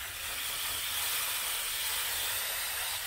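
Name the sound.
rinsing a brush with water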